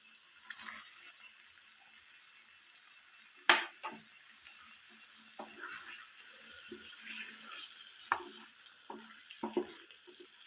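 Boiled quail eggs being stirred into a thick roast masala in a pan, faint scrapes and light sizzling with a few sharper knocks of the spoon, quiet overall.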